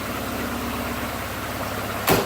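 The engine of a 1984 Porsche 944 with its exhaust fitted idles at about 1,000 rpm, a steady, even low rumble heard close. A brief louder bump comes near the end.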